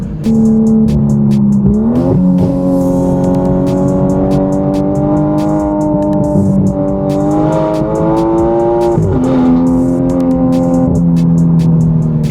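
An Aston Martin Vanquish, a front-engined, rear-wheel-drive car with an 824-horsepower twin-turbo V12, drives hard with a loud, continuous engine note that rises and falls through gear changes, heard up close with no talking.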